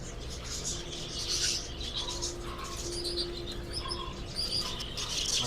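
Pet Euro budgies, lutino hagoromo birds, chirp in short high bursts around an aviary, with soft coos and a faint steady hum beneath, fairly quiet and continuous.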